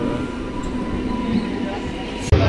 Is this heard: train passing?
yes